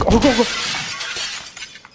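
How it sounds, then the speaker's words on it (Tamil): Glass shatters in the horror video game The Doramon Hotel, a loud burst of breaking shards at the start that trails off into scattered tinkling debris. "இவன்டா கண்ணாடி உடச்சுவேன்."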